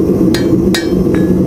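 A hot iron horseshoe is struck three times with a hammer, the blows close and evenly spaced, each a sharp metallic clank over a steady low roar of forge or background noise.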